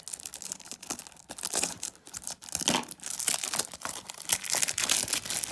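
Scissors cut open aftershave packaging: crinkling plastic and paper rustle irregularly at close range, with snips and tearing sounds as packaging is worked open.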